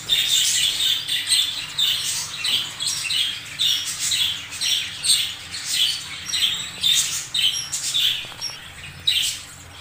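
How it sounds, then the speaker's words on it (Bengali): Small caged finches, including Bengalese finches, chirp in rapid high-pitched bursts, a busy repeated twittering that rises and falls throughout, close and fairly loud. "এখানে কিছু বেঙ্গলি পেয়ার আমি ছেড়ে দিয়েছি সব বেঙ্গলি পেয়ার ছেড়ে দিয়েছি এখানে এক পেয়ার ফিঞ্চও রেখে দিয়েছি"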